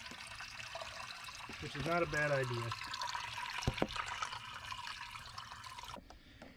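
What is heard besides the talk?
water pouring into pool pump system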